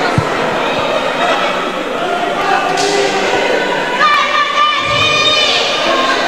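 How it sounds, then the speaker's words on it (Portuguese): A football crowd at Arena Douglas murmurs and cheers through a cup final, with a broad, continuous roar and occasional thuds under a nearby announcer's voice. "A torcida animada aqui na Arena Douglas."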